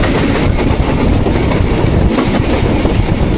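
The Rehman Baba Express passes through Chak Jhumra Junction with a loud, close, continuous rumble of rolling railcars and steady rhythmic wheel clatter, no voices.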